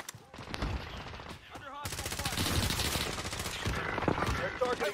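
Rapid bursts of automatic gunfire from a battle royale video game crackle almost continuously after a brief lull, loud and close, with a player's voice talking over parts of it.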